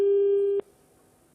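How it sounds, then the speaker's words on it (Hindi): A telephone busy tone on a dropped call: a steady, loud single-pitch beep lasting about half a second, a pause, then the next beep starting, heard alone. "आशीष, एजाज का फोन इस समय संपर्क जो है वो टूट चुका है।"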